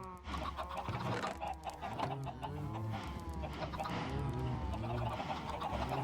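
Chickens in a Minecraft chicken cooker farm cluck and bawk continuously, several birds overlapping in a busy, steady chorus with no talk.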